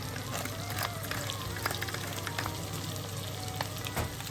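Veal sweetbreads fry in butter in a pan, a steady close crackling sizzle with occasional sharper pops and spoon scrapes as they are basted and turned.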